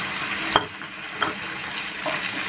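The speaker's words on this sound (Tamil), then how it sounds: "அதனால் இப்போ கொஞ்சம் மரக்கரண்டி யூஸ் பண்ணுறேன்" A wooden spoon stirring tomato kurma in a pan: steady frying sizzle with three distinct scraping strokes spaced about two thirds of a second apart, no voices.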